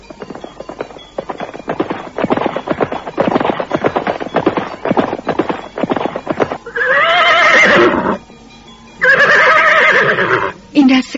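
Horses whinny loudly in a radio drama sound effect, several drawn-out neighs ringing out after a stretch of rapid, close hoofbeats clip-clopping at a steady gallop, with a narrator's voice mixed in early on.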